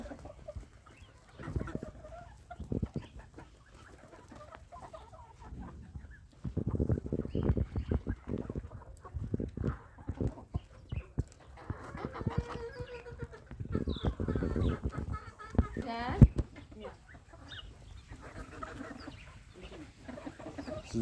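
A flock of Kharkov, Yubiley and Australorp hens and chicks clucks and cheeps in irregular bursts, some calls loud and close and others fainter, with occasional brief human voice in the background.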